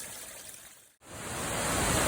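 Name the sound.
waterfall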